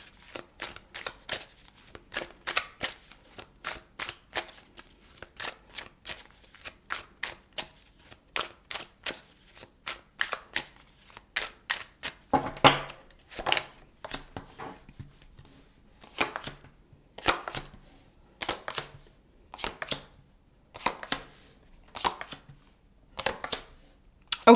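A deck of tarot cards is shuffled over and over, making crisp rhythmic riffling and slapping bursts close by, with short pauses between rounds and no voices.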